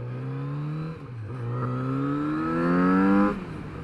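A Kawasaki Z900RS motorcycle engine pulls in a lower gear, its smooth tone climbing steadily through two rising runs with a brief dip between, close and loud over wind noise, with no talking.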